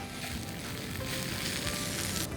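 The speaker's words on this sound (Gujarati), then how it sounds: "થોડી ફ્રેશ કોથમીર ને હવે આપણે એને હલાવી લઈએ." Boiled instant noodles with fresh coriander are tossed in a hot pan for spring roll filling, a constant close sizzle with faint stirring throughout.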